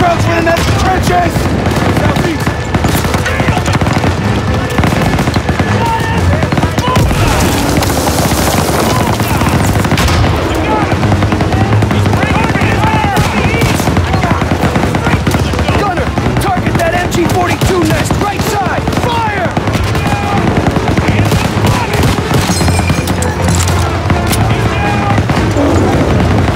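Heavy, continuous gunfire and explosions from the MG-42 machine gun in Call of Duty: WWII's Operation Cobra mission, with dense rapid bursts and booms running throughout at high volume, with occasional shouted voices mixed in.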